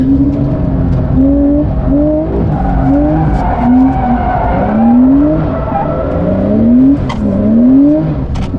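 Car skidding into a spin with its driving aids switched off, tires squealing in repeated rising bursts over a loud engine roar, close and intense, with no talk.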